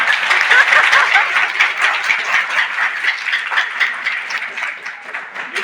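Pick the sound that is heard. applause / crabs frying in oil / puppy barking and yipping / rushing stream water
applause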